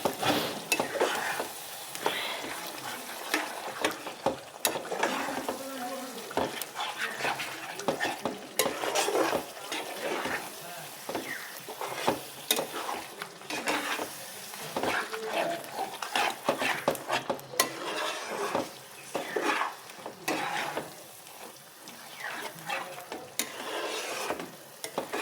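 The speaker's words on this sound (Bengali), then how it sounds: "এবার এটার সঙ্গে এটাকে আমি ভালো করে মিক্স করে নেব।" Coriander leaves stirred into a chutney mixture in a pan, irregular scraping and clinking of a spoon against metal over a soft sizzle, close and continuous with uneven bursts.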